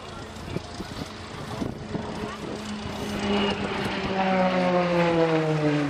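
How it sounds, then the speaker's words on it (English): Taylorcraft propeller airplane engine starting up at an air show, with sputtering, uneven firing settling into a loud, steady droning idle close by, while people talk in the background. "The aircraft that just fired up in front of me is a tailor craft."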